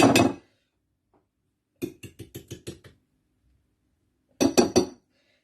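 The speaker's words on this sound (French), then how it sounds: "Maintenant, voilà, on mélange bien." Spoon mixing potatoes with cream sauce and cheese in a dish for a gratin, a quick series of sharp clinks and knocks against the dish in short bursts, close and clear with silence between, no talk.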